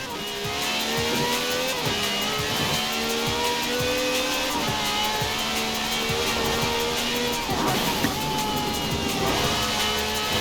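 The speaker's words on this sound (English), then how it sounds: "This is a V12 with over 750 horsepower, plus bucket seats." A V12 taxi with over 750 horsepower revs hard in Forza Horizon 4, a loud continuous engine roar rising and falling through gear changes with brief tire squeal, no talk over it.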